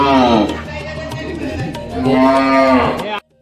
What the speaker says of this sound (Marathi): गाईंची वासरं असत.